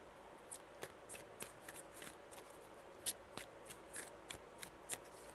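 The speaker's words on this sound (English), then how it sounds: "Three shuffles." Tarot cards are shuffled by hand close up, giving quiet riffling flicks and soft slaps in an irregular run of about a dozen taps.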